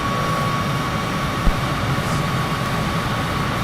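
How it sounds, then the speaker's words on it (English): Steady cockpit drone of a Cessna Citation business jet's engines in Microsoft Flight Simulator, a continuous broadband roar with a faint whine, constant throughout with one brief small bump. "Cessna Citation is a poor choice for a sightseeing plane."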